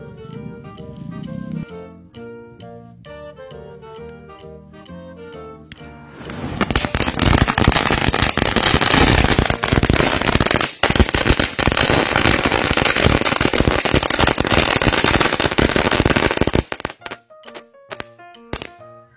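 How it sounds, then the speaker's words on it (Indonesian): A short rhythmic tune plays, then a long, loud barrage of rapid firecracker explosions crackles for about ten seconds before a few final bangs, set off for Chinese New Year. "Nanti bakal kita nyalain juga nih mercon harimau guys, spesial tahun baru Imlek."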